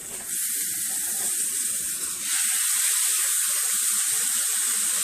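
Rolled tortillas fry in a non-stick Teflon pan, a steady close sizzle and hiss that swells louder partway through as more oil hits the heat, with faint crackles beneath.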